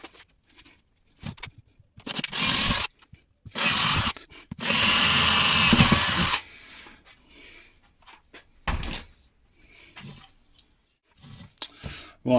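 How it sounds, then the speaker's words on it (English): A power drill bores a series of holes in a wooden speaker box for a Yamaha 200W build, in several loud whirring bursts of a second or two each, separated by pauses and handling noises. "so all the holes are drilled"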